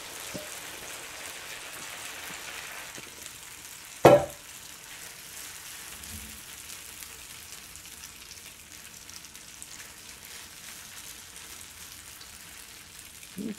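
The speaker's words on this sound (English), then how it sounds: "And this is the sizzle I wanted to hear." Olive oil sizzles in a hot pan while potato kugel is being prepared, a steady crackling hiss that runs throughout, with one sharp louder burst partway through as something hits the oil.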